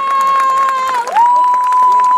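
A rodeo crowd in San Felipe, Guerrero cheers and applauds after a bull ride, loud shouts and clapping under a sustained whistle-like tone, with a short dip midway.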